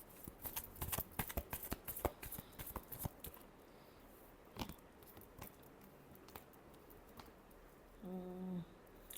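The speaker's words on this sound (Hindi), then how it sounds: "Last shuffle." Tarot cards are shuffled by hand in quick irregular riffles and slaps, close and fairly quiet, ending with a short rustle.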